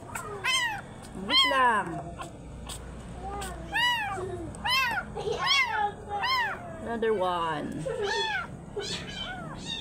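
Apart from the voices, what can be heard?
abandoned kittens meowing while being fed milk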